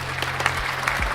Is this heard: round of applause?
yes